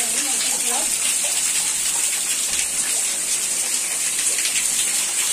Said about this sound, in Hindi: भगवान जी को जल अभिषेक कर रहे हैं